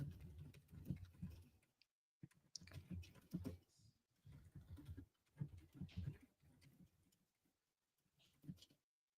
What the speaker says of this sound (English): So then I have to go back to typing.